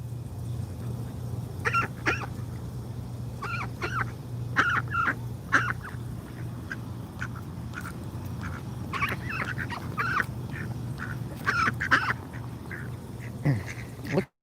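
Duck giving repeated loud, rough quacking calls with a coarse, horse-like quality, in short bursts over a steady low hum outdoors at dusk in wet weather.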